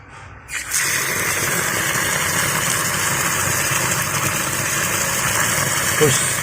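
Water gushes hard and steadily from a household pipe fed by gravity from a tank 4 m up, a loud continuous rushing roar that starts abruptly after a brief quiet moment.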